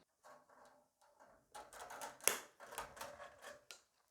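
Wire cutters snipping through a bass guitar string: quiet clicks and handling noise, then one sharp, close snap near the middle, followed by faint rustling and small metallic ticks.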